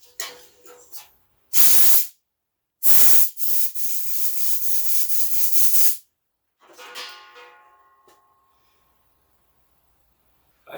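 Curb cleaner sprays in loud hissing bursts into the carburetor of a Craftsman walk-behind trimmer: a short blast, then a longer sustained spray, followed by fainter rattling and handling noises.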